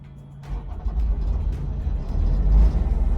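A Eurocold diesel refrigeration unit on a truck starts its own engine and settles into a loud, steady low rumble that builds and holds, close by, with no talk.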